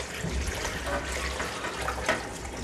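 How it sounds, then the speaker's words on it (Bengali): Water pours steadily into a large pot of rice being cooked as chicken biryani for twenty to twenty-five people, a close, continuous splashing rush. "5 বাটি চাউলের সাথে 8 বাটি পানি দিব। তো পানিটা দিয়ে দাও।"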